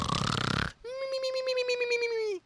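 A person imitates snoring with a short, harsh, rattling breath followed by a longer, steady, buzzing voiced drone, close and fairly loud.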